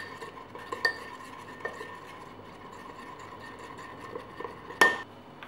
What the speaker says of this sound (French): Vous allez commencer à délayer votre miel dans l'huile.